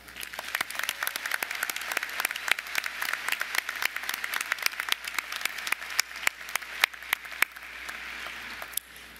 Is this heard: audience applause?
yes